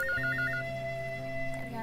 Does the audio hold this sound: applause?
no